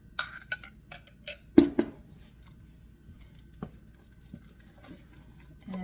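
A spoon stirs melted butter into buttermilk mashed potatoes in a pot, giving wet squelching scrapes and a couple of louder knocks early on, then quieter intermittent stirring, close by with no talking.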